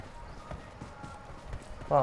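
Horse hooves clip-clop in a battle royale video game, a run of soft, evenly spaced thuds about twice a second beneath busy game sound.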